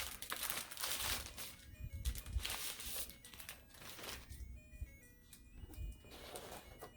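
Packaging of an Akko Sakura Jelly mechanical keyboard crinkles and rustles close by as it is opened by hand, in bursts of crackling and tearing over several seconds with no talking.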